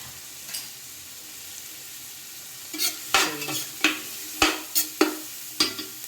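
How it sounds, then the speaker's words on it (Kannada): Carrots, beans and onion fry in oil in a pan, a low sizzle broken by a series of sharp spatula scrapes and taps against the pan, close and irregular. "ಫ್ರೈ ಮಾಡ್ತಿದ್ದೇನೆ"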